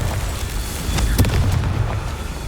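Confringo spell explosions in Hogwarts Legacy: a dense, loud burst of booming blasts and crackles that fills the short stretch, peaking sharply near the middle.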